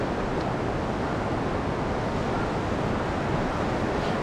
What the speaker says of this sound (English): And this is the Youghiogheny River.